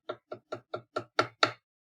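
A run of seven knocks on a door, evenly paced, starting soft and becoming firmer and louder over the last two, with silence around them.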